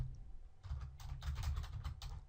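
Someone types quickly on a computer keyboard at close range, with soft, rapid keystrokes in uneven bursts and no talking.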